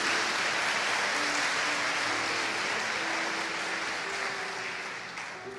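A church congregation breaks into sustained applause during a family-themed sermon, a dense wash of clapping that holds steady for several seconds, with faint tones running underneath, then gradually fades at the end.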